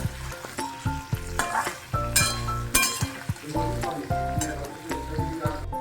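Paneer cubes sizzle and fry steadily in a hot pan, with intermittent stirring scrapes and a few clinks of utensil against metal, close and fairly loud.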